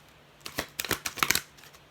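Tarot cards being shuffled by hand, a quiet flurry of quick papery flicks and riffles lasting about a second, heard close and alone.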